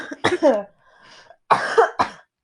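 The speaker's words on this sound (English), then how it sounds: "I'm trying so hard to not cough." A few sharp, loud coughs close up, in two bursts separated by a brief quiet pause with faint murmuring.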